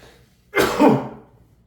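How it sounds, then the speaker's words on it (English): One abrupt sneeze bursts out of near silence, loud and close, with a sharp onset and a breathy tail lasting under a second. "I got a sneeze coming on"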